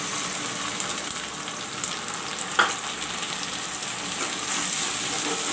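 Masala fries with golden brown onions in a pan, giving a steady close sizzle and a soft crackle, with one brief stir clatter midway.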